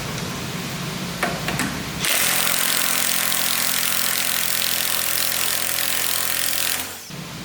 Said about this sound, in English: So now I'm gonna try to get this bolt broke free.